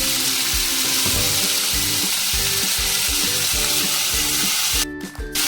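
Chopped tomato and green chilli paste fry loudly in hot oil for a thin catla fish curry with taro stems, a constant crackling sizzle with rhythmic scraping stirs, ending in a brief clatter.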